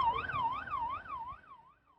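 Fire truck and ambulance sirens wail with a rising and falling tone as emergency vehicles respond to a fire at Ewha Womans University's ECC building, fading away over a couple of seconds.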